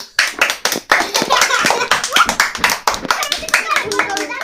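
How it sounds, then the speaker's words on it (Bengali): Several people clap together, with fast, loud and uneven claps, to cheer a child winning a paratha and bhaji eating contest at home, while voices talk over the applause. "সিয়াম জিততেছে একটু সময় হাততালি হোক।"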